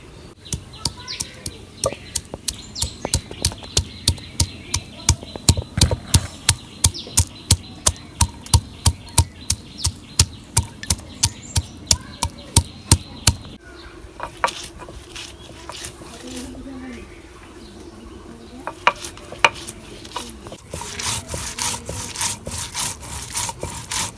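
Garlic, onion and ginger are ground by hand on a grinding stone, a loud, quick run of rhythmic scraping strokes. It pauses briefly, then resumes in a softer, denser pattern, with faint voices now and then.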